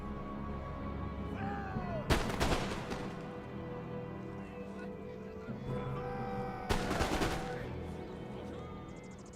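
Cannon volleys in Total War: Empire, two loud broadband blasts about four seconds apart, each with a rumbling tail, over a steady bed of battlefield din and distant musket crackle.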